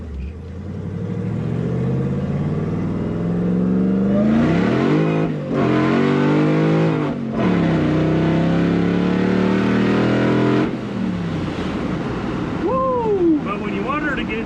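The Borla 3-inch stainless touring exhaust of an 807-horsepower Hellcat-swapped Ford F100 revving hard in repeated rising bursts, loud and close, with a deep throaty drone between pulls.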